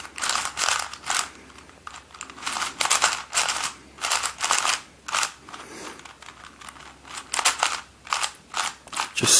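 A Funs Limcube Ultimate puzzle cube is turned by hand in a steady run of close, crisp clicking and ratcheting bursts, with brief pauses between the twists.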